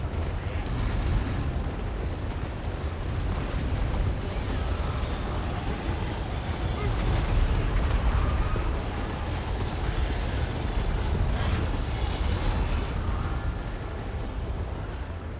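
Battle in Total War: Warhammer 2 with cannon and gunfire, a dense continuous rumble of booms and crackling shots layered over one another for the whole stretch, moderately loud with no clear gaps.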